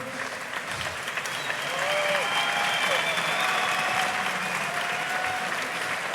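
An arena crowd at the Duel Fighting 5 MMA event applauds a fighter with sustained, dense clapping that swells and holds steady, with cheering mixed in.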